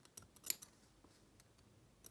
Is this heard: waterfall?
no